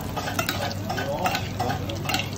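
Cauliflower cooking in butter in a pan for a truffle dish in a Michelin-starred restaurant kitchen, giving a steady close sizzle and frying hiss with light stirring and utensil scrapes, no voices.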